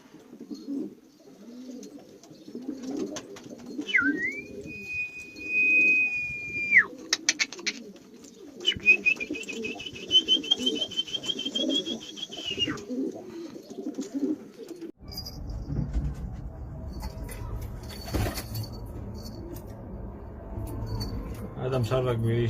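Syrian pigeons coo softly at close range amid a background of varied bird calls, with a couple of sustained high whistling tones and a rougher, noisier stretch toward the end.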